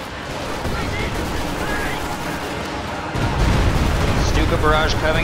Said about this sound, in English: Barrage coming in on clustered Allied forces deals significant damage.